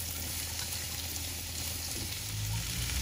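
Diced bell pepper and onion frying in butter over a medium flame, a continuous close hiss and sizzle that swells slightly toward the end, with no talking.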